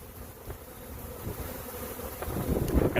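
A swarm of honeybees buzzes outdoors in a dense, continuous hum that grows slightly louder toward the end, with some wind noise mixed in.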